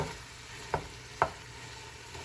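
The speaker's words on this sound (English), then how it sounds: "we'll cook or saute the pork ribs first for about 10 minutes." Pork ribs sautéing in a pan for sinigang hiss with a faint, steady sizzle, broken by two sharp utensil clinks against the pan, with no talking.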